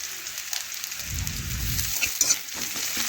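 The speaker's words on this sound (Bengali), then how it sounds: "একসাথেই নাড়াচাড়া করে একটু ভেজে নিচ্ছি।" Chopped garlic frying in a pan while being stirred, for a gourd-leaf and flat-bean dish, giving a steady close sizzle with a brief louder low rumble and a few light scraping clicks.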